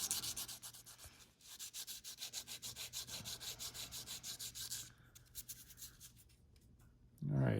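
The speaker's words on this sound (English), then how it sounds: "using 220 grit sanding block" A 220 grit sanding block rubs an agate stripping guide in quick, rhythmic back-and-forth strokes, close and crisp for about five seconds, then slower scattered passes before a brief louder thump at the end.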